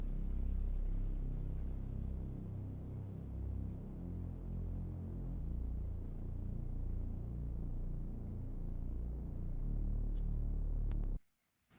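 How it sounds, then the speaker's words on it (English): A dry sub bass synth with no effects holds a deep, steady low rumble for about eleven seconds, then cuts off abruptly near the end, with no voices. "Then the last thing we have is this sub bass"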